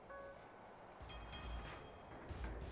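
A train rumbles past in the brawler game Gang Beasts, a steady low rolling roar with clacking wheels and a faint horn-like tone, loud and close throughout.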